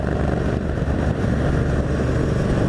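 Triumph Bobber motorcycle cruising on a highway at 100 km/h and 3,000 RPM, a steady, loud engine drone mixed with heavy wind roar, unbroken for the whole stretch.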